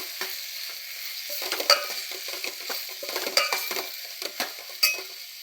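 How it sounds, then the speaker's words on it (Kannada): A spoon scrapes and stirs chili powder, coriander and garam masala into a sizzling pan of kurma, with repeated irregular clinks against the vessel over a low frying hiss; no talking. "ಚಿಲ್ಲಿ ಪೌಡ್ರು, ಧನಿಯಾ, ಗರಂ ಮಸಾಲೆ ಹಾಕ್ತಾಯಿದ್ದೀನಿ. ಮಿಕ್ಸ್ ಮಾಡಬೇಕು ಇದು ಚೆನ್ನಾಗಿ."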